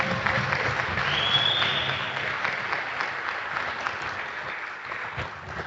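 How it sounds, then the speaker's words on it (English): Audience applause for volunteers at a workplace safety-days celebration, a dense wash of clapping that holds steady and then gradually thins out toward the end. "can you guys thank them, give them a round of applause?"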